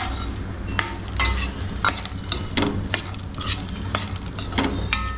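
Rava (semolina) being fried and stirred in ghee for Diwali rava ladoo, with a steady sizzle broken by repeated scraping strokes of a spoon against the pan, close and fairly loud, no talking.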